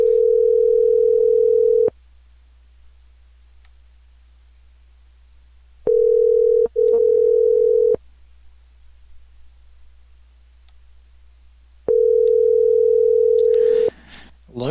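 A steady telephone tone from a Google Hangouts dial pad sounds loud and clear in three separate stretches of about two seconds each, with near silence in between and a brief break within the second stretch.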